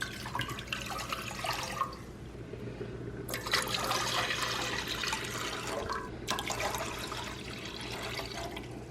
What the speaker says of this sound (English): And to that I'll add 6 cups of water.